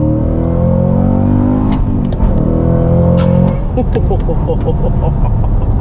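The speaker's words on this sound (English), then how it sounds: "it's got a little burble to it, a little baby burble" A loud 700hp V8 engine in a new manual luxury sedan revs and rumbles up close, its exhaust popping and burbling as the throttle lifts, with a voice briefly audible over it.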